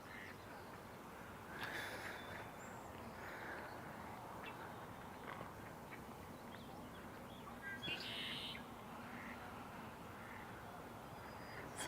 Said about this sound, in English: that's a red-winged blackbird that we can hear